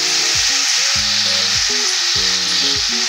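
Chopped taro and tomatoes fry in a hot pan, giving a close, steady, loud sizzling hiss that never lets up, with faint low tonal sounds running underneath.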